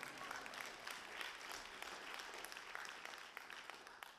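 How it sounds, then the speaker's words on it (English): Applause from an audience during a city's FY25 proposed annual fiscal plan presentation, after mention of higher pay for sworn personnel: a dense, even patter of many hands clapping throughout, soft and somewhat distant. "And that's a round of applause."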